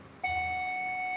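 A quiz competition buzzer for the school Mmofra Mmere sounds one steady electronic tone that starts abruptly and holds, loud and alone with no talk.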